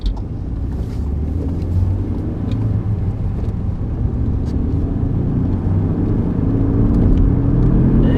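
A 1995 BMW E36 318i on the road, its worn rear wheel bearings whining faintly inside a loud, steady interior rumble of tyre and engine noise that builds slightly.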